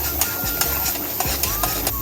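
Dry lentils and chana dal roasting in coconut oil with fenugreek over a low gas flame, stirred with a spoon in a pan: repeated scraping strokes over a soft steady sizzle, close and moderately loud.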